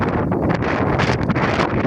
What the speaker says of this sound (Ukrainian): піднявся вітер, сніг, дощ